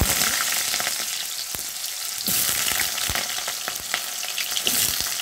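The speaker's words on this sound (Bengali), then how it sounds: "ভেজে রাখা আলুগুলো, কেটে রাখা আলুগুলো দিয়ে দিই" Fried cut potatoes tossed into a pan for a bain fish bhuna, a loud, crackling sizzle with repeated sharp spatula clacks and scrapes against the pan.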